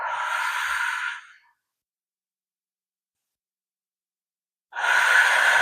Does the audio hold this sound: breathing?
yes